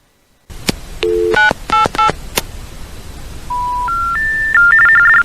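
Three DTMF dialing tones punched in on a Northern Telecom Centurion pay phone, loud and close in quick succession, followed by a steady rising sequence of network tones.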